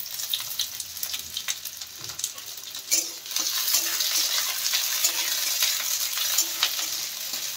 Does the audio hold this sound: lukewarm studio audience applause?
no